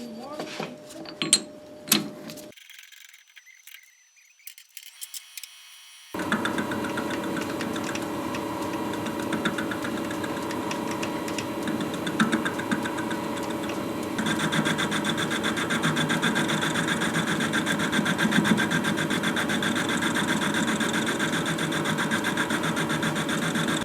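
An Atlas metal lathe facing a small aluminum part made from pop cans: a steady, close motor drone that starts abruptly after a few seconds of quieter handling noise, then grows louder and harsher as the cut continues.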